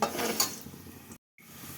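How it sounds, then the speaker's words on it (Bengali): Raisins fry and are stirred in a wok, giving a steady scraping stir with light sizzle up close, then a brief dead-silent gap before the sizzle returns. "তো এই দেখো কিশমিশটা কিন্তু একদম ভাজা হয়ে গেছে"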